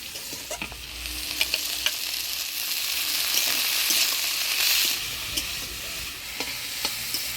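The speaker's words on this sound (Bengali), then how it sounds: "বেগুনটা আমি ভাজা ভাজা করে নিলাম এবার ডিমা পাতাগুলো এর মধ্যে দিয়ে দেবো" Eggplant with gima greens fries in a pan, giving a continuous hiss and crackle, with occasional scrapes and taps from stirring, close and fairly even in loudness.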